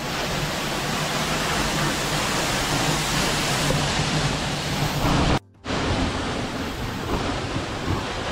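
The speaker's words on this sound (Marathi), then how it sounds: "हा वरतून वॉटरफॉल पडणारा" The Ramghal waterfall at Tondoshi, a steady, loud broadband roar of falling water heard close up, continuous throughout apart from one brief cut.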